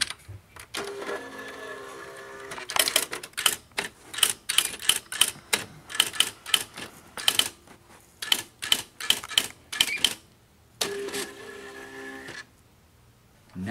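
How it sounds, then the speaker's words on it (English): An electric typewriter clatters in rapid bursts of key strikes, close and crisp, with brief pauses and a steady motor hum between runs of typing. "Never give Ben access to an electric typewriter"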